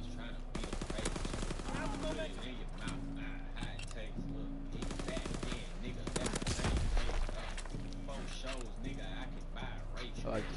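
Rapid automatic gunfire from a DLC weapon in a first-person shooter game, loud and close, coming in repeated bursts over a busy game soundtrack, with someone talking over it.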